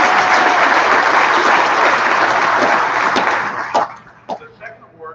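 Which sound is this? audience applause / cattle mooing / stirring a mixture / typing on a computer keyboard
audience applause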